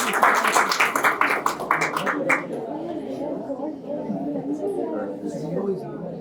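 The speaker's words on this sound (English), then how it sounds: "Big round of applause to both of them." An audience at a data structures and algorithms workshop claps in a brief burst that fades after a couple of seconds into murmuring chatter, with talking voices in the room.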